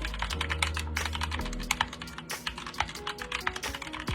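Rapid, close-up clacking of keystrokes on an RGB mechanical keyboard, with dense, uneven bursts of key presses continuing steadily without pause.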